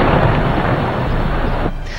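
Explosions during the night bombing of Baghdad, a dense roaring rumble of blasts that cuts off abruptly near the end, loud and alone with no talk.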